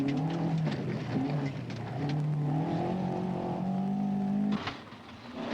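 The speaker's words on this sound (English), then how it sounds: "Norm Belitho finally has the Datsun 120Y running the way he wants." A Datsun 120Y rally car engine running, heard at a 1978 Canberra rally as a steady droning engine note that shifts pitch as it revs, then drops off sharply near the end.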